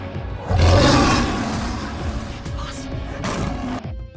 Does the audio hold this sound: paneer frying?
no